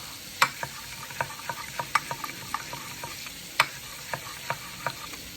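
Bitter gourd (ampalaya) sautéed with plenty of egg in a pan, giving a steady low sizzle broken by repeated sharp clicks and scrapes of a utensil stirring against the pan, fairly close and moderately quiet, with no talking.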